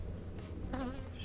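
Honeybees buzzing over a hive frame, a steady close drone of many wings with one bee's louder hum passing briefly near the middle, no talk.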